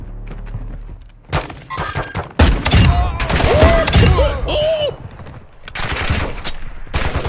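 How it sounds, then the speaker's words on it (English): Loud video game gunfire in dense bursts and volleys aimed at the player, with heavy impacts and chaotic battle noise close up, and brief voice-like sounds mixed in. "Who else is shooting me?"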